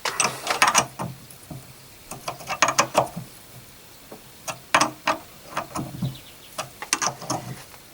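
Screws being tightened on the steering rack cover of a 1954 Panhard Junior, heard as close, irregular ratcheting clicks in quick bursts with short pauses between them.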